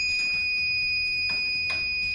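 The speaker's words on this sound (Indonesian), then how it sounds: "Kita coba buka pintu lagi. Nah, buzzer langsung berbunyi ya." A homemade door buzzer, wired from a broken motorbike lamp, sounds a steady high-pitched electronic tone throughout, with faint clicks and soft bursts of noise around it and no talking.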